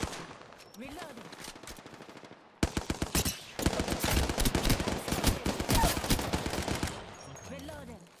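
Automatic weapon fire in Apex Legends: after a quieter stretch of clicks and movement, a loud sustained burst of rapid, evenly spaced shots runs for about four seconds, then cuts off.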